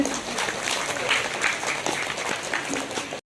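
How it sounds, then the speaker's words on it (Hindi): A crowd at a Christian engagement gathering claps loudly on request, a continuous, fairly distant roar of hands with indistinct voices underneath, cutting off abruptly at the end. "और जोर से ताली बजा दीजिए"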